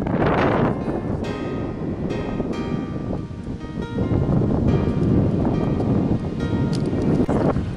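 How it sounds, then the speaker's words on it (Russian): A strong headwind buffets the microphone of a cyclist riding on a road in worsening weather, producing a loud, constant roar of rushing air with gusts and no pauses. "А вот сейчас, ребята, встречный ветер."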